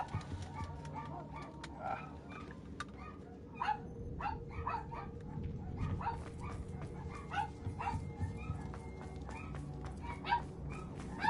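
A dog barks, yips and whimpers in a series of short, uneven bursts, nearby and moderately loud, over a low background rumble, with no talking.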